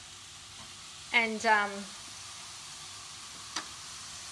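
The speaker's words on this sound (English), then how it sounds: "I'm just going to tip it in there in the frying pan." Cauliflower rice frying in a frying pan gives a steady, faint sizzle and hiss throughout, with a brief spoken word and a small tick near the end.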